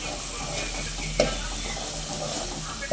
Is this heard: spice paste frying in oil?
yes